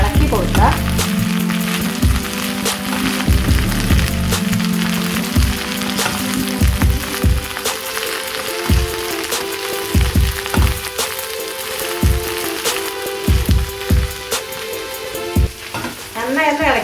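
Okra (vendakka) sizzles loudly in a pan while a utensil repeatedly scrapes and stirs it, producing regular knocking strokes over the constant frying hiss.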